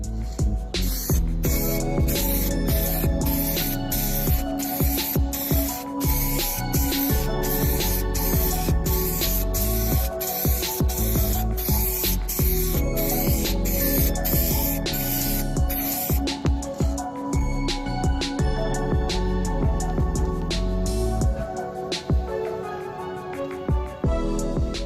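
Rattle-can spray paint lays a base coat on a 2016-2018 Honda Civic spoiler in a run of close, loud hissing bursts, quick and rhythmic at first, then longer sustained sprays.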